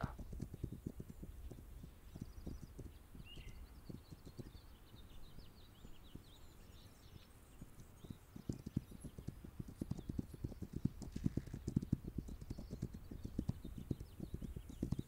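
A horse gallops in the video game This Land Is My Land, its hooves beating in a fast, steady clip-clop that grows denser and louder toward the end, with faint bird calls in the background.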